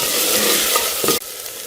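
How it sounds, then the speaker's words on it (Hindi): Loud, dense sizzling as chicken fries with garlic-ginger paste in a hot pan, with a quick stir-scrape before the hiss drops slightly. "लहसुन अदरक के पेस्ट को मैं चिकन के साथ अच्छी तरह से भूनूंगी खुशबू आने तक।"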